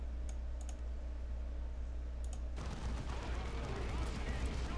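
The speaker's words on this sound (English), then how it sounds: "I want to turn just down that gunfire crap" Gunfire effects from the real-time strategy game Warhammer 40K: Dawn of War II. A quieter stretch with light clicking suddenly gives way to a dense, continuous barrage of battle noise for the second half.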